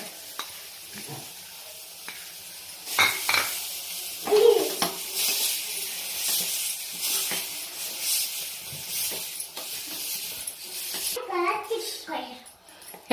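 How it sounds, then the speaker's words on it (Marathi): Wood apple chutney with jaggery warming and being stirred in a pan on the stove, a soft hiss and sizzle with scraping strokes of the spoon, some louder clatters, and someone speaking over it. "तर ही चटणी आपल्याला याच्यामध्ये टाकून घ्यायची थोडंसं उगी गुळ गरम करायचं आहे आपल्याला"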